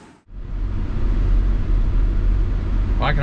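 A Toyota Land Cruiser 100 Series on a test drive after a brake fluid bleed, heard as a steady low engine and road rumble from inside the cabin.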